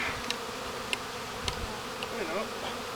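A honeybee swarm that overwintered in a nucleus box buzzes steadily and close while being moved into a full hive. Soft clicks and knocks from the hive frames cut through the drone, with no speech.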